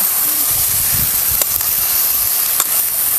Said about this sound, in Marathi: आता जरा हां परतून घेऊया.